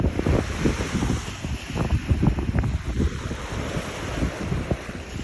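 Ocean waves rolling onto a shore in Canada, a steady broad wash of surf with gusting wind buffeting the microphone throughout, fairly close and continuous with no voices.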